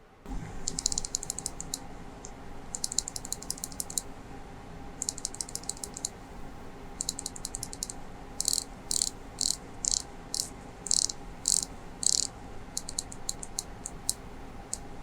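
A Seiko Prospex SLA055 unidirectional dive bezel is turned close up, producing crisp, firm clicks in quick bursts, then a steadier series of distinct single clicks, with a faint background hiss and no talking.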